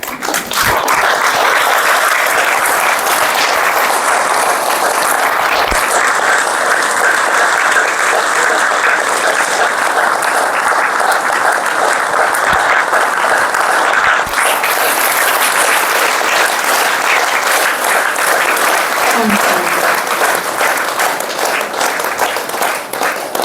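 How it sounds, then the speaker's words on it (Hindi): A crowd applauds loudly and steadily at a village inauguration ceremony for a new Brahma Kumaris hall, dense clapping sustained throughout without pause. "तालियां से पता चले कि आप लोग कितने खुश हो।"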